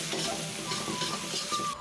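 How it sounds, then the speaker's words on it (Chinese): Sichuan peppercorns and dried chilies sizzle and crackle steadily in a smoking-hot oiled wok, a continuous close frying hiss while the aromatics are stirred, with no talk. "把花椒海椒倒入锅中，快速炝出香味来。"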